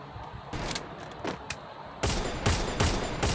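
Gunshots in a shooting video game: a few scattered sharp cracks early, then a louder cluster of rapid shots in the second half, close and prominent.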